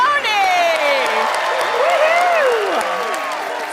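Studio audience at a magic competition TV show applauds loudly, with whoops and shouting voices rising over the continuous clapping throughout.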